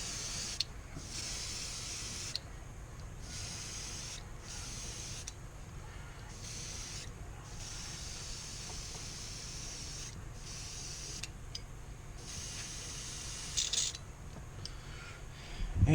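A heat gun heat-sets paint in repeated bursts, an airy blowing hiss that switches on and off in a series of blasts of about one to two seconds, with quiet gaps between.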